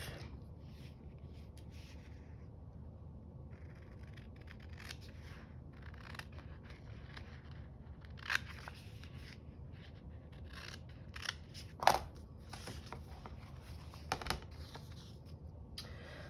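Scissors cutting a sheet of paper in half while making sticker book and washi collage boards, quiet close snips and paper rustles with a few sharper clicks of the blades, no talking.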